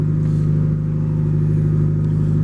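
A Mitsubishi Lancer Evo 9 on its stock engine and exhaust cruises with a steady, loud droning hum from inside the car, holding an even engine note without revs or speech.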